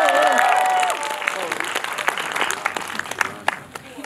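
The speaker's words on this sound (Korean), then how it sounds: "박수 한 번만 부탁드립니다." A cinema audience at CGV Centum City applauds during a stage greeting for the thriller film "아내를 죽였다" (Killed My Wife). A voice speaks first, then a crackling burst of clapping fills the room and gradually thins out.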